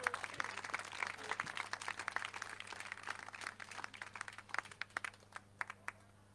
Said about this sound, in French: merci de les applaudir encore une fois.